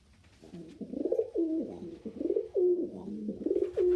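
A pigeon or dove coos close by, a run of soft, throaty, repeated coos in a steady rhythm against a quiet background.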